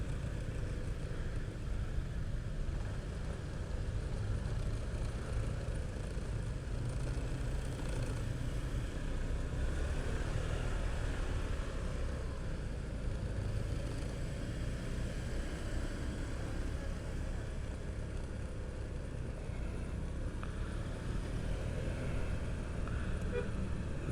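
Steady city traffic in Sidoarjo at year's end: a continuous low rumble of car and motorbike engines idling and creeping in a jam, constant and fairly close throughout, with no talk.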